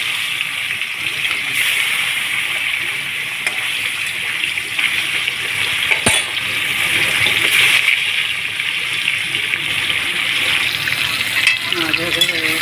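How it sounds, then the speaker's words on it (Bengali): Katla fish frying in hot oil makes a steady, dense sizzle with a few bubbling pops, staying close and fairly loud for the whole stretch. "মাছ ভাজা হয়ে যাচ্ছে"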